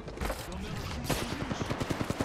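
Rapid gunfire from the L-STAR energy weapon in Apex Legends, with a fast run of sharp, evenly spaced shots building in the second half over other game noise and a brief voice.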